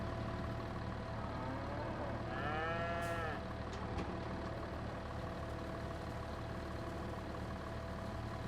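Beef cows in the Farming Simulator 22 video game give a single clear, drawn-out moo that rises and falls, set against a steady engine idle hum and low farm ambience.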